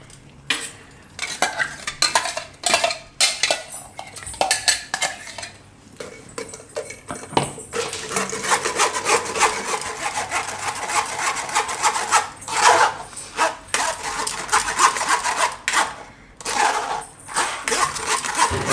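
Ground corn dal being strained through a sieve in a home kitchen: continuous scraping and rubbing of a spoon against mesh, with rasping strokes that come in bursts and then run steadily.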